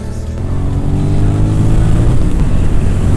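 A 2002 Suzuki SV650 motorcycle being ridden, its engine drone loud and close with a slight rise in pitch as it pulls along, without talking.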